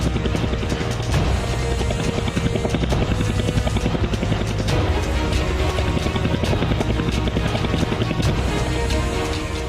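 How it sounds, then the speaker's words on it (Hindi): Chinese Air Force military attack helicopters: rotors thud in a steady, fast chop with a heavy engine roar, loud and continuous throughout with no talking. "ये चाइनीज एयरफोर्स के advance jet in attack helicopter हैं"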